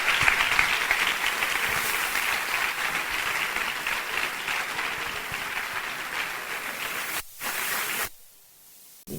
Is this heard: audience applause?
yes